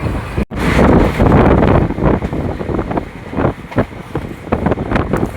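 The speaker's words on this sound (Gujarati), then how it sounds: "પવનનો અવાજ આવતો હશે." Wind roars past an open window of a moving train, a loud, continuous buffeting rush that dips briefly near the start and then pulses unevenly.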